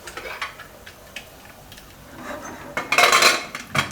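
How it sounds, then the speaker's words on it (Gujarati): A pressure cooker lid is shut and clamped over a Gujarati soya chunk and green pea curry in a home kitchen: a short burst of close metallic clanks and clinks that follows a few softer taps and rustles. "તો હવે કુકરનું ઢાંકણું બંધ કરી દઉં."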